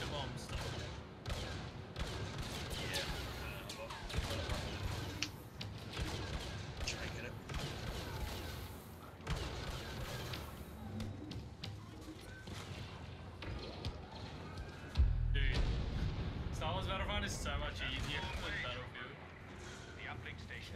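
Rapid blaster gunfire crackles in repeated bursts through a Star Wars Battlefront match, with several players talking over the shooting and a louder burst partway through.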